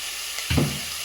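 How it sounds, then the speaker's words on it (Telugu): Onions frying in a pan with salt added for Andhra-style fish curry, a short sizzling burst that swells briefly then fades, fairly loud and close with no talking. "ఇలా సాల్ట్ వేస్తే ఆనియన్ అనేది బేగా వేగుతుంది"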